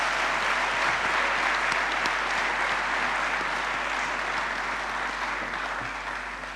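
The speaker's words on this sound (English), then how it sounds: "Can we have a round of applause for the parents?" Sustained applause from a large audience at a Medical University of Lodz graduation ceremony honoring the parents, a dense steady clapping that fills the hall throughout and tapers slightly toward the end, with no talking over it.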